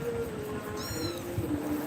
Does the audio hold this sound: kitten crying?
yes